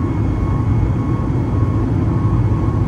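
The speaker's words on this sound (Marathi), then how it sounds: "अजून वरती जायला विमान." From inside the cabin of a climbing airliner on a Bangalore to Mumbai flight, a steady, loud, low engine drone fills the whole stretch without change or talk.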